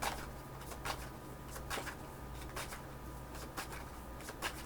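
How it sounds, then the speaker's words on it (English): A tarot card deck is shuffled nearby in short, soft riffling bursts that recur every second or so against a quiet, humming room. "let me shuffle a confirmation deck"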